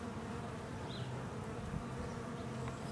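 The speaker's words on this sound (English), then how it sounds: "So here's a bee right here." A honeybee buzzes at a beehive on a cool, sunny spring day. The buzzing is continuous, close and steady, with a faint hum of other bees behind it.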